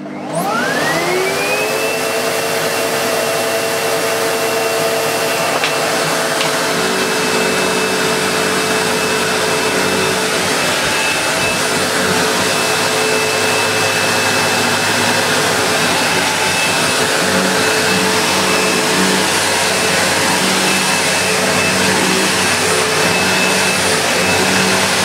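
A Sebo Automatic X4 Boost upright vacuum cleaner runs after its hose was unclogged and refitted to the wand, its motor whining up to speed at the start and then holding a loud, steady roar.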